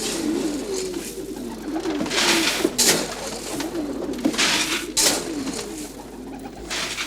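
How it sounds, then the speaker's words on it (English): Pigeons kept by a man who also works at a winery coo in low, repeated rolling phrases, with several sharp bursts of noise breaking through the steady cooing. No one speaks. "he keeps pigeons."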